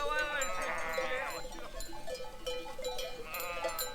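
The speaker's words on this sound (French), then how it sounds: "Je filme les moutons, monsieur." Flock of sheep on a mountain hiking trail in the Écrins, bleating repeatedly at moderate distance, with layered calls overlapping against faint outdoor background and a hint of bells.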